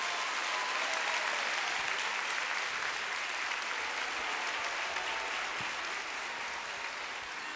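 An audience claps steadily to welcome a singer onto the stage at a TEMA Foundation 30th anniversary broadcast event, a dense, even applause heard from a distance throughout.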